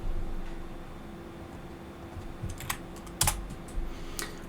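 Close typing on a computer keyboard while entering a terminal command, a few sparse clicks building into quick uneven keystrokes over a soft hum.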